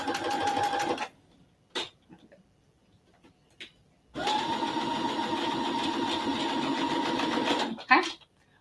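A sewing machine stitching a quilt block seam runs in two bursts, a short one at the start and a longer steady whir later, with quiet handling noises in the gap between.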